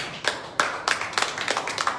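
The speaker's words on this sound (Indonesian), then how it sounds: "Tepuk tangan untuk Tuhan." A church congregation claps hands together, the claps loose and uneven at first, then settling into a quicker, fairly steady rhythm of sharp hand claps. The claps carry clearly and fill the room, and no voices come through over them.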